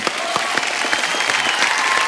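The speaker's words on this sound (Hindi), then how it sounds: "तो सिम्बा की स्टार कास्ट हमारे साथ है, एक बार जोरदार तालियां" Studio audience applause greeting the Simmba star cast on a comedy talk show set, a dense, loud wash of many hands clapping continuously throughout.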